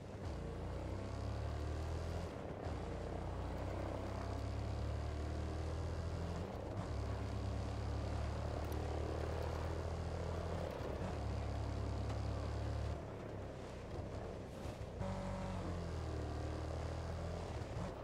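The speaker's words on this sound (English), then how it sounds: "Enemy chopper in the AO." Enemy helicopter in the video game Ghost Recon Breakpoint, a sustained low rotor and engine drone passing overhead with a few brief dips, loud and continuous without voices.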